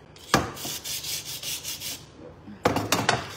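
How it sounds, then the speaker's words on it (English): Coarse 80 grit sandpaper is rubbed back and forth over a surface in quick rasping strokes, with a pause in the middle before another burst of scrubbing. "going to come in with the coarser sandpaper because we want to scratch it up really, really well"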